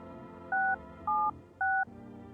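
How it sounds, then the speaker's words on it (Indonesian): Telephone keypad dialed in a video game: three short, loud dual-tone beeps in an even rhythm over a quiet hum. "Telepon dulu guys, telepon dulu."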